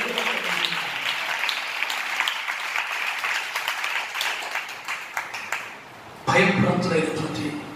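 Children clap together during a church sermon, a loud rapid patter of many hands that fades and then bursts back strongly near the end, with a voice speaking through it.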